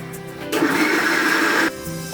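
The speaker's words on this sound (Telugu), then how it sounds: "ఇదంతా జస్ట్ సెకండ్సే వేయండి మిక్సీలో, ఎక్కువసేపు వేయకూడదు" A mixer grinder blends honey cake batter containing vinegar and baking soda in one loud, steady whirring burst of just over a second, with quiet kitchen room tone before and after.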